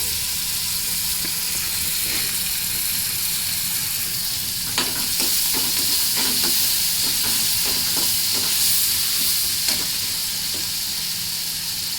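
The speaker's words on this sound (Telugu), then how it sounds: "కడిగి పెట్టుకున్న కరివేపాకు వేసి వేస్తున్నాను. ఇది బాగా వేగాక" Curry leaves sizzle and crackle steadily in hot oil, with sharp pops and spits clustering toward the middle, close and continuous with no talking.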